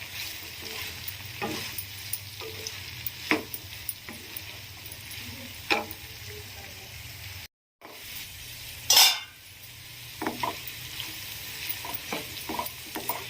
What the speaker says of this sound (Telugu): మధ్య మధ్యలో కలుపుకుంటూ మనం ఫ్రై చేసుకోవాలి.